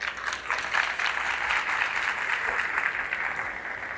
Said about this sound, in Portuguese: por favor, palmas para ele